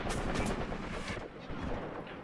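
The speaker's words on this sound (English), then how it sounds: "Maybe I can get my medium mortars to shoot at that." Medium mortar fire in the war game Graviteam Tactics: a dense, muffled rumble of distant blasts and battle noise that continues steadily at a fairly low level.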